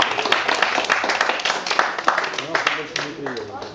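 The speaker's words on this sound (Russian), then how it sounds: "Ваши аплодисменты." Applause with scattered clapping from a crowd, steady over several seconds, mixed with an announcer's voice over a loudspeaker, at a jet ski racing championship awards ceremony.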